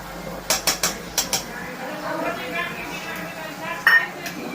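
Cut fruit for a fruit salad is dropped into a bowl in a quick run of sharp clinks and knocks near the start, then a soft rustle, with one more clink toward the end.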